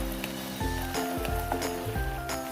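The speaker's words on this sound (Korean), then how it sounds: "양념이 쫄아서 자박해질 때까지 계속 볶아주세요." Beef and shishito peppers stir-fry in a soy sauce seasoning reducing in a pan, giving a soft, continuous sizzle and bubbling with a few light clinks of stirring, close and fairly quiet.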